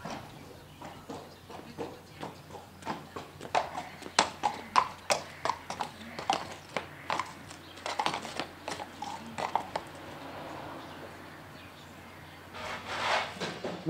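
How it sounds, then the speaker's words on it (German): A horse's hooves clip-clop in an uneven walking rhythm on a hard floor as it is led from its stall, close by, with quieter stretches and faint background noise. "Man holt das Pferd halt aus der Box"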